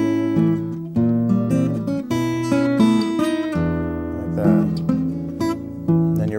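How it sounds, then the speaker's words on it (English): Fingerpicked acoustic guitar phrase from a tune, where a slide into a note lands together with the thumb striking the low E bass string; clear, close, steady plucked notes and bass thumps, no talking. "a slide or a pull off or hammer on at the same time as you hit a bass note."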